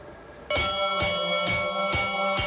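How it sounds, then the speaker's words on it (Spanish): Bronze church bells ring out over the historic centre of Cuenca, loud and close, with heavy resonant strikes repeating roughly twice a second and each ring hanging over the next, with no voices. "el centro histórico de Cuenca despierta con el repique de sus campanas"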